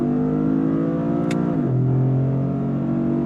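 A 2026 Toyota GR Corolla engine revs hard under acceleration, its steady close-up drone rising in pitch and then dropping sharply at a gear shift about halfway through before settling into a lower sustained tone.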